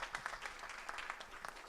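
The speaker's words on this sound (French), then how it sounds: "Je crois qu'on peut applaudir Chloé et Guillaume" An audience applauds Chloé and Guillaume at a student start-up event, a short burst of scattered clapping heard from a distance, fairly faint.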